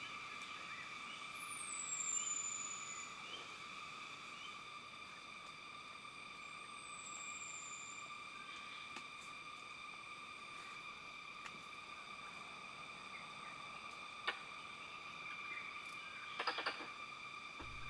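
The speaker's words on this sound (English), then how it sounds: "The noise you just heard there is an alarm call from one of the squirrels." A squirrel near a bird hide outside Kaeng Krachan National Park in Thailand gives an alarm call, a quiet repeated chatter set against steady, shrill insect drone and a few faint bird notes.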